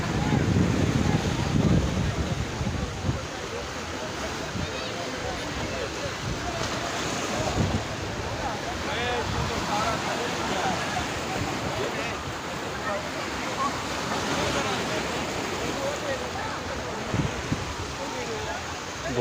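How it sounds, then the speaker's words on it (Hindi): Sea waves wash in steadily at Mubarak Village beach in Karachi, a broad continuous surf roar mixed with heavy wind buffeting the microphone, while someone talks over it. "ये मुबारक वैली का समंदर है।"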